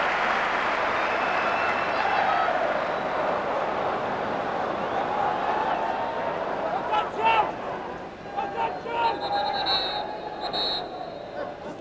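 Football crowd at an FA Cup match applauds in a broad, sustained wash of clapping and cheering, with a commentator speaking over it and scattered shouts rising near the end.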